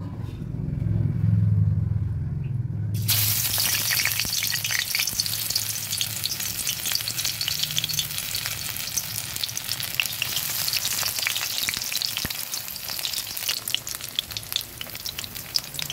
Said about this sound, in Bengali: এবার আমি এক এক করে ভেজে নেব